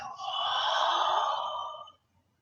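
A single long, deep exhale during qigong breathing practice, close and clear, swelling smoothly into a breathy hiss that holds for about two seconds before trailing off into silence.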